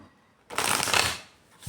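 A deck of cards shuffled close up, one dense riffling burst lasting about a second, then a brief start of another, with no talk.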